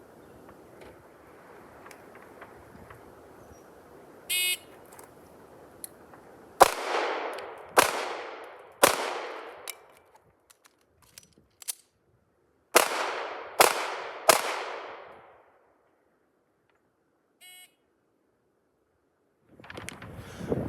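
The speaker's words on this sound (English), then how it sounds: "On a signal to fire, I'm going to draw and fire 3 rounds into the body of the target" An S&W 469 pistol fires at a target, six sharp, loud shots in two quick groups of three separated by a pause, with quieter handling noises between and a faint voice early on.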